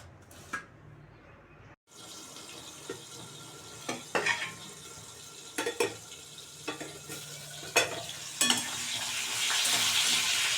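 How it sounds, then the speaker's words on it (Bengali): Salted potatoes frying in a pan for a rohu fish curry, a low sizzle broken by repeated spatula scrapes and knocks, the frying swelling louder toward the end, close and without speech. "আলুটা দিয়ে দিলাম একটু লবণ দিয়ে দিয়েছিলাম একটু ভাজা ভাজি হোক আলুটা"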